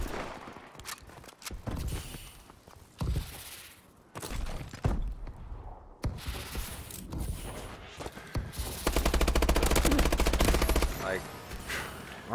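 Bursts of gunfire in a Call of Duty match: scattered single shots early, then a long sustained automatic burst near the end, loud and close, with thumps and movement between.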